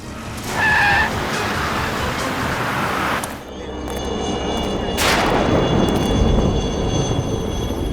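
A car brakes hard and skids to a stop on a road, a loud burst of tire screech and engine noise with a sudden drop, then rumbling vehicle sound continues.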